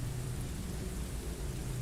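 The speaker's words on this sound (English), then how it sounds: "Just the pounding of the rain and the whispering wind." Storm with pounding rain and wind, a dense, constant roaring hiss of heavy downpour that fills the whole stretch, close and unbroken, with no voices.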